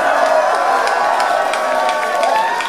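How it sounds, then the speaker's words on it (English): Concert crowd at the O2 Academy Islington in London cheering and clapping at a show, a loud sustained roar of voices and applause filling the hall. "Give yourselves a large round of applause."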